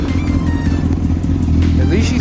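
Honda CBR 1000RR sport motorcycle with a tire patched with Fix-A-Flat, its engine running with a steady low rumble, close and loud, while someone talks over it.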